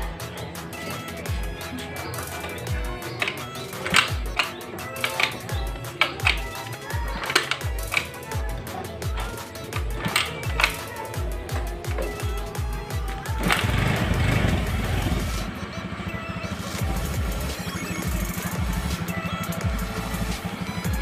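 Carbureted Honda Beat scooter with a bored-up 55 mm piston, ticking and puttering unevenly through repeated start attempts before catching and running with a steady, louder engine drone.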